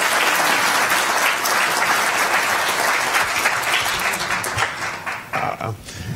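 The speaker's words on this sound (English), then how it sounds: "Please give them all a big round of applause." A hall audience at a sports hall of fame panel applauds warmly in a full, sustained round that tapers off and thins toward the end.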